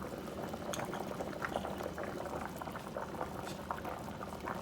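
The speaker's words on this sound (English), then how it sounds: "now that it's boiling really good, I'm going to turn it down to medium to low heat" A pot of potatoes boils hard on a home stove, giving a steady close bubbling and gurgling with scattered pops throughout and no voices.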